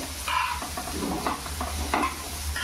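Tomato and capsicum cooking in a pan for masala pav, a steady low sizzle running throughout with soft scraping stirs of a spatula at intervals, close and alone without talk.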